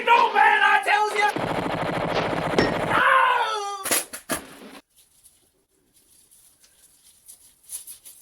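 Rapid machine gun fire from the ZX Spectrum game Santa's Dilemma, a dense rattling burst of chiptune-style shots lasting a few seconds amid busy game sounds, followed by a few sharp bangs and then near silence.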